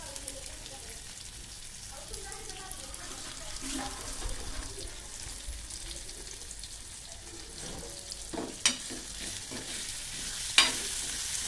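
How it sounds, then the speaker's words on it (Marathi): Chicken liver stir-fries in a pan with no water added, making a close, steady sizzle. Spatula scraping runs through it, a voice murmurs in the background, and a couple of sharp metallic taps stand out toward the end. "हे कलेजी त्यामध्ये परतून घ्यायचं आहे. पाणी अजिबात वापरलं नाही."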